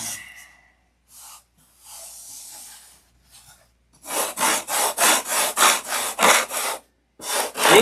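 Hand shaping of wood to taper a model aircraft rudder, a few scattered scrapes first, then a rapid run of rhythmic rasping strokes, close and crisp.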